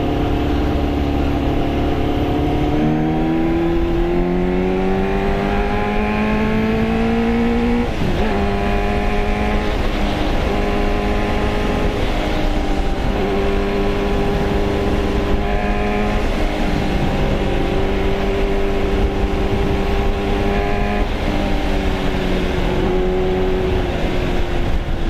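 A 1989 Yamaha FZR400R inline-four motorcycle engine revs loud and close in one continuous note. The pitch climbs and falls across repeated throttle blips, with no talking.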